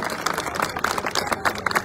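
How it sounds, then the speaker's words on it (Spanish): Loud applause from an audience at the inauguration of Jurassic Park San Bernardo, dense steady clapping filling the whole stretch without a break. "nos brindamos un digno aplauso muy"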